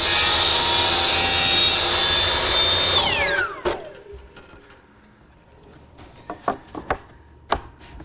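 A power tool trimming a walnut miter joint whines steadily at close range, then winds down with a falling pitch, followed by scattered taps and clunks of handling the workpiece.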